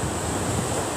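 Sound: strong wind and waves at the beach

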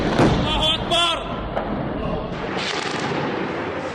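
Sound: heavy artillery bombardment in Homs

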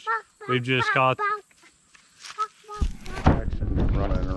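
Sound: child imitating a chicken's clucking

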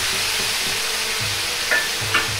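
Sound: soy sauce sizzling as it is poured into the hot wok

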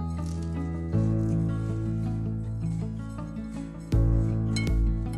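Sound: stirring dandelion flowers with sugar

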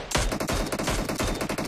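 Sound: gunfire from a video game (BGMI)

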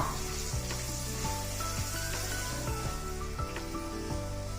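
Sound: frying with turmeric for ulavacharu (horse gram curry)

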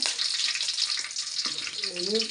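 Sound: curry leaves sizzling in hot oil

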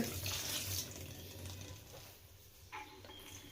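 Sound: cold water poured over cooked noodles

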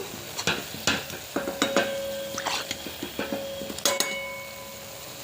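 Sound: banana fritters frying in oil

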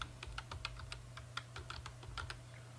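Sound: typing a password on a computer keyboard

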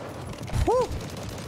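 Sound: gunfire in video game Call of Duty Warzone

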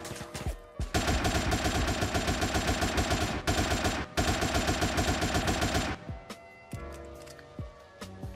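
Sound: AK rifle gunfire in GTA video game

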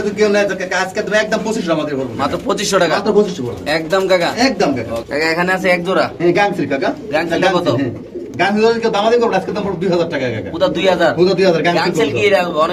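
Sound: pigeons cooing

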